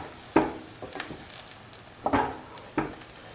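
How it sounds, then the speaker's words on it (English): Scrambled egg frying in a pan, a quiet steady sizzle broken by a few sharp spatula scrapes and taps at uneven intervals, no talk. "Let it fry."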